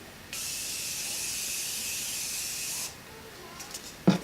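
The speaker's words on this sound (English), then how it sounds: "And I'm going to spray it again." A single aerosol setting spray burst over a made-up face, a steady hiss lasting about two and a half seconds, close by, followed by quiet and a brief clatter.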